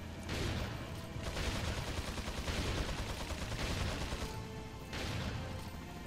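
Rapid bursts of gunfire from Resident Evil 4 on Professional difficulty, loud and close, in several volleys separated by short gaps.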